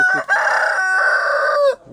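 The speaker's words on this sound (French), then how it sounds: "il y a les canards et les poules qui sont ensemble, ça va pas" A rooster gives one long, loud crow from close by in a pen shared by chickens and ducks, with a brief clucking sound just before it.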